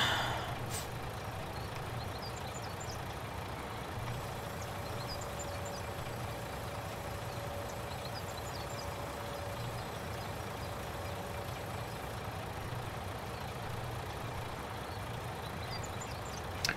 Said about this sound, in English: We've got ourselves a new truck, I think, guys.